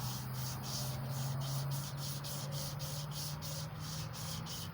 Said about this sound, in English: you can kind of get the sandpaper to move up with the string